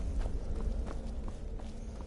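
Hooves of a horse in the video game Skyrim clip-clop at a steady walking pace over a low rumbling ambient bed, moderately close and soft.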